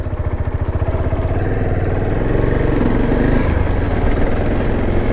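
A KTM Duke 690 single-cylinder motorcycle is being ridden, its engine giving a loud, steady, throbbing drone with a rapid pulsing beat and rising slightly in pitch partway through, heard up close with no voices.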